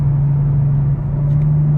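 A car engine holds a steady moderate-throttle drone, loud and close, with a strong low hum and rumble and no talk over it.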